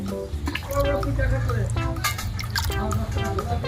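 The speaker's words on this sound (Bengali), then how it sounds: "একটু জল এনে দিন না, এই বালতিটা করে এনে এটা করে একটু জল দিন।" Water pours from a bucket into thickened paint while a mud house is being painted, giving a splashing, dripping trickle with small clinks, heard under close conversation.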